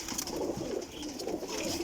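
Pigeons coo softly on a rooftop, with repeated low murmuring calls over faint background ambience.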